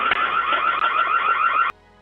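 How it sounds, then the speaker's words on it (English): A loud electronic alarm blares at a front door, a steady warbling tone sustained for well over a second before cutting off abruptly. "a loud alarm echoed into the air"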